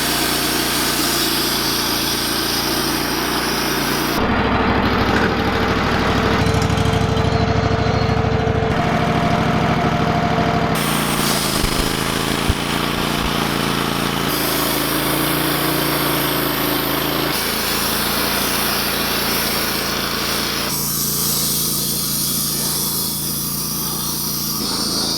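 An engine-driven sawmill runs through a timber log at a home timber-frame build site, its motor droning loud and continuous with shifts in pitch and load as the blade cuts, with no voices over it.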